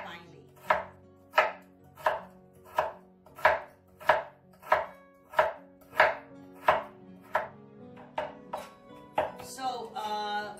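Frozen dumpling filling ingredients finely chopped with a knife, a steady run of about a dozen evenly spaced, crisp, close thuds on a board, speeding into faster scraping cuts at the end.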